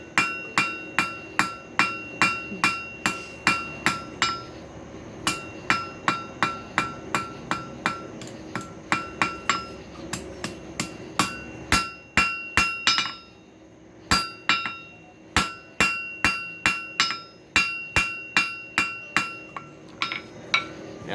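Hammer planishing a half-inch steel bolt into a round taper, sharp ringing metallic strikes in quick regular bursts close by, each blow clinking brightly, with brief pauses between runs.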